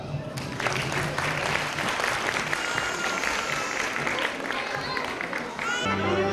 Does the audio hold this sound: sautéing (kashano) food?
no